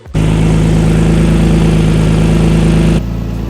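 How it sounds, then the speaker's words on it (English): A Nissan 350Z with a stock-block single turbo setup cranks and fires up, then settles into a loud, close, steady idle with a deep low hum before the level drops slightly near the end. "I'm gonna start the car and I'll show you guys the leak so you guys can hear it."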